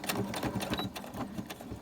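A domestic sewing machine back-stitches across a laminated file folder pocket, giving a rapid, close, steady mechanical chatter of needle strokes over about two seconds.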